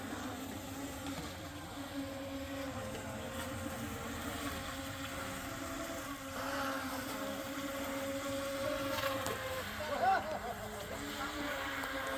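An RC race boat motor on Lake Hiawassee, North Carolina, whining steadily at a distance, rising somewhat toward the end, with outdoor ambience.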